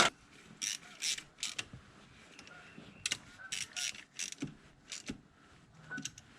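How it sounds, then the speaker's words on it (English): A ratchet fitted with a 10mm socket snugs down two bracket nuts on a 1996–2001 Toyota Camry V6, giving close, quiet bursts of rapid clicking in short repeated strokes separated by brief pauses. "Put the 2 nuts on and then just snug them down with a 10mm socket."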